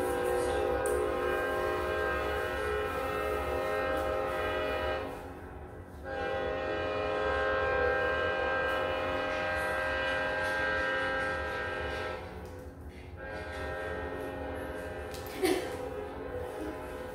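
A train rolls steadily past close by, its horn sounding loudly throughout with a sustained tone that dips briefly twice, with a brief louder burst near the end.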